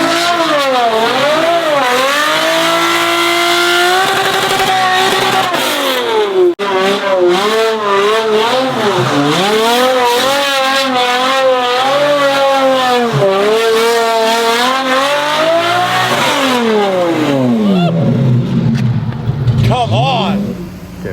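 A car fitted with headers and exhaust finished only to the mid pipe revs hard, loud engine tones sweeping up and down repeatedly, with a voice speaking over parts of it.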